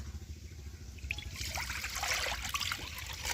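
Water poured into a kadai on the stove to steam cauliflower, a close steady trickle and splash that grows fuller and louder partway through, over a low rumbling hum.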